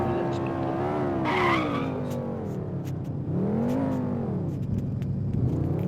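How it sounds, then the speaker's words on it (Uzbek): A car drifts and skids in a video game, with a loud, continuous engine whine that rises and falls. Tires squeal steadily underneath the engine throughout. "turgan joyda ham drift qilib ketaveradigan mashina ekan"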